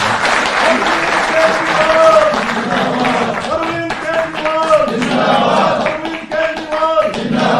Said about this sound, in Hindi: आदरणीय मुख्यमंत्री जी, जोरदार तालियों से आप